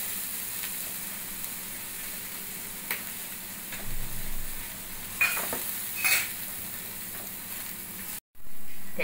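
Ridge gourd being sautéed with Malvani masala and chana dal, a steady sizzle in the pan with stirring scrapes and a few clinks of a spoon, ending in a brief sharp knock.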